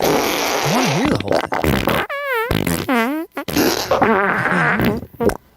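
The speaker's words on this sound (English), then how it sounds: "This is a minute long of farts." A recording of a long parade of farts plays loud and close, a string of wet, buzzy and squeaky blasts with pitch-bending tones and brief gaps between them.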